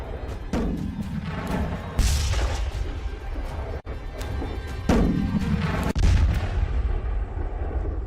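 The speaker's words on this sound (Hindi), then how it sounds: "इजराइल वहीं बम गिरा रहा है।" Bombs explode in Israeli strikes on Tehran, with several heavy booms and blasts each trailing off into a rumbling roar. The impacts are loud and land at irregular intervals, and no one talks.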